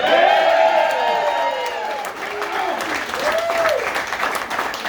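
A comedy show crowd at the World Bowl Super Series of Comedy claps and cheers for the co-stars, with loud whoops at first, then steady applause and scattered shouts.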